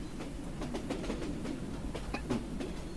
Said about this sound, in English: now you have a small resource train that's able to go and gather whatever you need